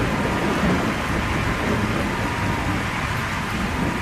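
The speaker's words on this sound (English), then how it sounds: "If the rain gets any harder, it could cause serious problems." Heavy rain pours down during Rio Carnaval in a dense, steady hiss that stays loud and even throughout.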